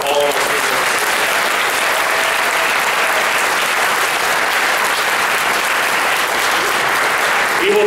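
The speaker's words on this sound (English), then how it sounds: "one more round of applause for all of our speakers." Full-room applause at a high school spring band and orchestra concert, a loud, dense and unbroken wash of clapping from a large audience that holds steady throughout, with a faint voice starting up at the very end.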